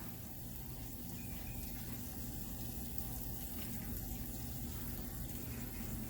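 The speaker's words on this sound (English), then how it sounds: "I'm gonna take that hot chicken broth" Steady stream of hot chicken broth pouring continuously into a bowl, a close, even watery rush with no speech, lasting the whole stretch.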